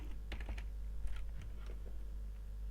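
Quick bursts of keystrokes on a computer keyboard, typing a function name into a LibreOffice Calc dialog, faint and close over a low steady hum, with no voices.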